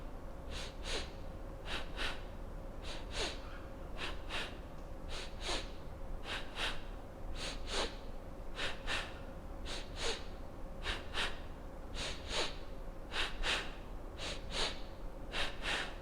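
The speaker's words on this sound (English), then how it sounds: "Take a nice long inhale through the nose, exhale through the mouth." Yoga breathing: a steady run of about sixteen paired breaths, each a nasal inhale followed by a mouth exhale, close and clear and evenly spaced, with no talk over them.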